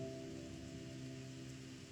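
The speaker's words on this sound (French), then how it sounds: "j'ai choisi une musique relaxante avec le bruit de la pluie" Soft, steady rain patters evenly throughout, faint and continuous beneath gentle sustained tones of relaxing background music during a stormy summer evening.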